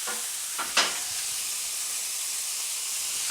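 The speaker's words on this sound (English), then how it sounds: "get the bacon lardons in" Bacon lardons frying in cold pressed rapeseed oil give a steady, bright sizzle throughout, with a couple of brief louder crackles as they hit the pan near the start, and no talk.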